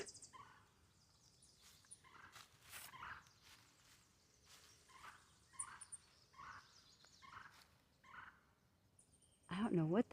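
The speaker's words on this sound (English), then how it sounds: "I don't know what that bird is, but it is loud." A loud, unidentified bird at a nature center in Hudson, Wisconsin, gives repeated gobble-like calls in a steady series of bursts, with a louder, closer call near the end.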